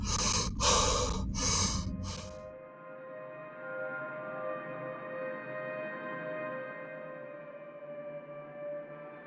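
A human voice imitates a creature panting with four harsh, rhythmic breaths up close, then gives way to a sustained, steady musical drone.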